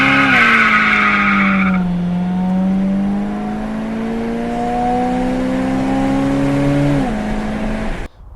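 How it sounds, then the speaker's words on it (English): A V8 307 with a Quadrajet carburetor, in a G-body car, revs loud and close with a steadily climbing engine note, holds for several seconds, then drops away abruptly near the end. No voices. "when you put your foot into them, they actually ran pretty good when those secondaries opened up on that quadrijet"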